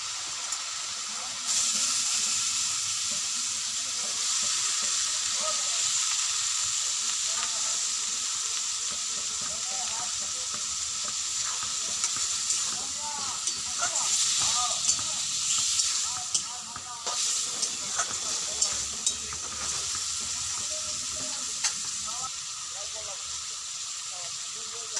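Boiled saur and potato pieces sizzle and fry in spiced oil while being stirred, a steady close hiss with occasional scraping clatter, under intermittent talk.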